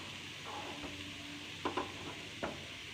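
Curry leaves and ginger sizzling in hot oil in a pan while making bread upma, a steady soft frying hiss with a few sharp spoon clinks against the pan.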